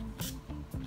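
Makeup setting spray is pumped onto a brush in two short, breathy hissing bursts about half a second apart, close to the mic, over a low background hum.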